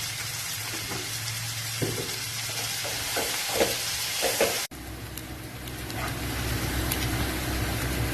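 Onions sautéing in a pan for hotel-style channa masala, a steady broadband sizzle with a few stirring scrapes, briefly cutting out before the frying hiss resumes, with no talk.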